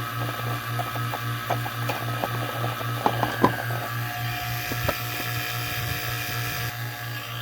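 Vacuum pump pulling a vacuum on a car A/C system, a steady mechanical hum with a fast rhythmic pulse, accompanied by scattered clicks and taps nearby.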